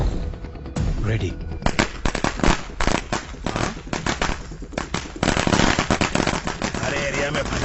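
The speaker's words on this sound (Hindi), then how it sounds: "अरे एरिया में पटाखा कौन फोड़ रहे रे?" Firecrackers burst in rapid irregular strings in a residential area, sharp loud cracks and pops going off close by with hardly a pause, a voice calling out among them.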